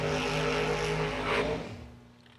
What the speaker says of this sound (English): Long smoky burnouts here.